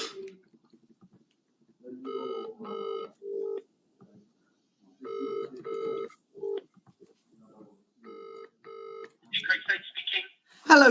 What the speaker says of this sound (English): I can hear your auto dialer ringing there.